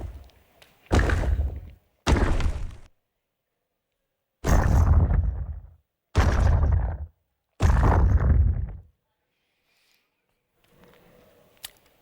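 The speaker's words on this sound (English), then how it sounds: "when you shoot at asteroids and they blow up" Five heavy, booming explosions of asteroids blowing apart in a video game follow one another, each a loud broadband blast lasting under a second, with a faint rumbling tail at the end and no talk.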